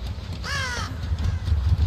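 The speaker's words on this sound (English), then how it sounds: "These fucking crows are bullshit." Crows caw in a Dead by Daylight-style horror game with the Wraith killer: one harsh, drawn-out caw rises clearly over a low rumbling ambient bed, with no talk.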